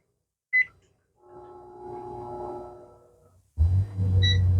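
A short microwave beep, then a steady humming drone, followed by another beep and a louder low buzzing hum as the microwave loads a Honda EU3200i portable fuel-injected inverter generator.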